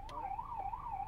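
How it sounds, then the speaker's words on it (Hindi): The yelp siren of a Mahindra Bolero Neo+ ambulance gives a rapid, repeating up-and-down warble, clear and close, with no voices over it. "Then this is the Yelp."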